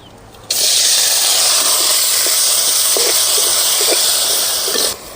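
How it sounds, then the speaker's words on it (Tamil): Banana flower dropped into hot groundnut oil in a pan, starting a sudden loud, steady sizzling hiss that holds for several seconds and then eases off, with no talking. "எண்ணெய் காஞ்சிக்கிடுச்சு, வாழைப்பூ கட்டிக்கலாம்."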